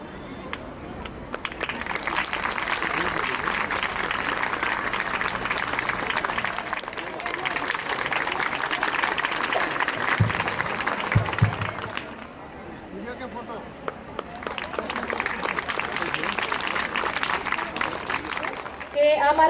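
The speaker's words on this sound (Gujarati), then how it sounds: "અહીં સ્વાગત થાય છે ત્યારે આપણે તાળીઓથી વધાવી લઈશું" Students clap in a sustained burst of applause welcoming a guest at a school function in Jujva, Valsad, a dense crowd roar that dips briefly near the middle, then swells again, with faint chatter underneath.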